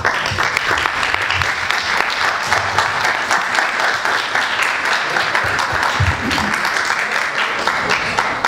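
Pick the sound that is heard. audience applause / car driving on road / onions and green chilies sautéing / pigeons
audience applause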